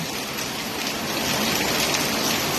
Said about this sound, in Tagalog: Malakas na po yung ulan dito.